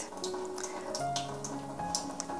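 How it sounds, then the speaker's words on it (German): Water running and trickling out of the hoses of a water ionizer during descaling, a steady faint flow with small drips and splashes, heard alone with no talking. "Die Wasserschläuche raus, damit alles ablaufen kann nach aussen."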